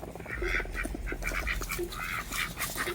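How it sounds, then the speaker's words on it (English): Several Mallard or Rouen ducks quack repeatedly and close by, overlapping nasal calls in quick irregular bursts over a low outdoor rumble. "Here's my geese and my ducks."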